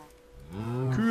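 A single Minecraft cow gives one low, drawn-out moo that builds in loudness over the second half, heard alone without speech.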